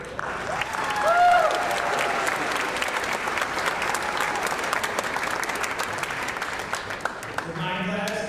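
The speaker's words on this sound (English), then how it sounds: "So let's give her a round of applause." Audience applause fills a school hall of fame ceremony, a dense sustained clapping that swells early and holds steady for several seconds. A voice speaks briefly over it near the start.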